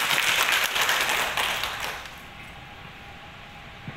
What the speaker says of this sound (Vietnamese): Đề nghị chúng ta một tràng pháo tay thật lớn để chào mừng các bạn.